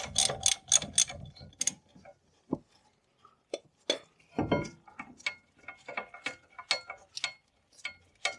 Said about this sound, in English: if we try and undo the bottom bolt here now, we'll be able to pull the caliper away